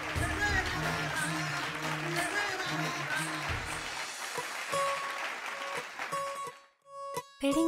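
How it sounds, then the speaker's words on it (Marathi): A studio audience bursts into loud, sustained applause at a Marathi television event, with music playing underneath, before the clapping thins out and stops near the end. "तर जोरदार टाळ्या होऊन जाऊ देत"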